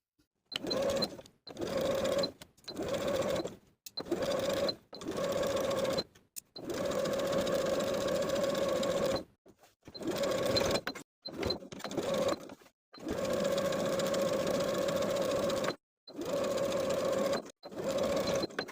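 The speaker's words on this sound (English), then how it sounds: "we're going to sew along the bottom finished edge of the facing and pivot along that inner edge of the facing all the way to the shoulder seam." A sewing machine stitching a facing to a top's bodice front, running in repeated bursts of steady whirring separated by short pauses, close and loud.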